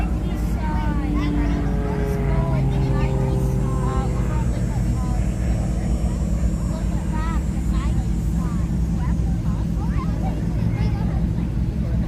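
Airplanes performing at the Canadian International Air Show, a continuous engine drone with rising and falling whines as aircraft pass, heard under almost constant talk in a crowded outdoor setting.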